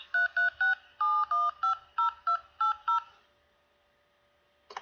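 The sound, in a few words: telephone keypad DTMF tones entering a phone number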